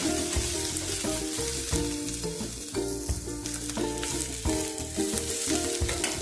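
Onions sauté loudly in a pan, crackling and sizzling steadily with repeated stirring scrapes and a low rhythmic clatter throughout, with no speech.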